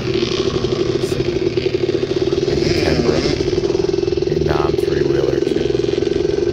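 Dirt bikes ride at Haspin Acres during a trike festival, their motorcycle engines holding a steady loud drone with occasional revs and clatter, while people talk over the engine noise throughout.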